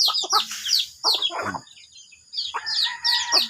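White Kelso gamefowl cluck and squawk up close in short, irregular bursts. Sharp calls overlap and are separated by brief pauses in a backyard poultry setting.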